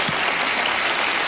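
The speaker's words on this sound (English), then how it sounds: "I think Penn's parents deserve a round of applause" Studio audience at a magic competition television show bursts into sustained, dense applause, loud and steady throughout with no talking over it.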